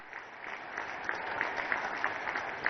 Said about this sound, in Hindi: अरे बजाओ ताली, पीछे के लाइन पे ताली सुनाई देनी चाहिए मुझे।